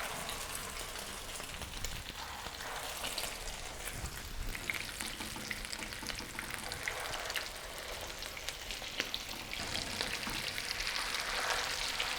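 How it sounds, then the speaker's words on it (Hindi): Egg-dipped potato cutlets shallow frying in oil, a dense, crackling sizzle that stays steady and close throughout. "अंडा फेंटेंगे और उसमें डिप करके हम इसको शैलो फ्राई करेंगे"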